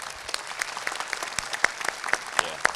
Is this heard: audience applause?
yes